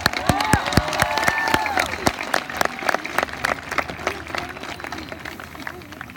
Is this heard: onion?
no